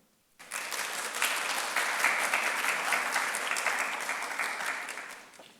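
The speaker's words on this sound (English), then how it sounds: "Please give a round of applause for him." An audience at a SUNY Downstate Lavender Graduation ceremony bursts into applause, a dense, steady clapping that swells quickly, holds for several seconds and then gradually tapers off, with no talking over it.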